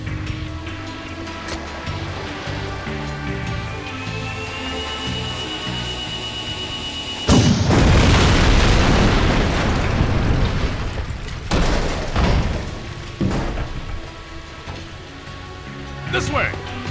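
A tank is blasted in the Jak II game. After a rising whine the blasts land with a sudden, heavy roar, and a run of loud booming explosions and rumbling debris follows for several seconds over the game's background sound.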